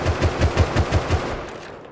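Rapid semi-automatic rifle fire in the game Rust, about seven evenly spaced loud shots in quick succession aimed at a road sign, followed by a brief fading echo.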